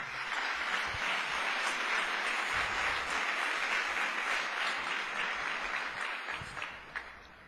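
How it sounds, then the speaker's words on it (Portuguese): A church congregation breaks into sustained applause for the Lord, a dense wash of many hands clapping at steady loudness for several seconds before tapering off near the end. "Quem entendeu isso, dê uma salva de palmas para o Senhor"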